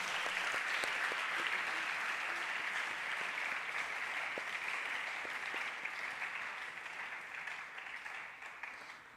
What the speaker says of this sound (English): I would like to request the House in joining me in another round of applause for D.N.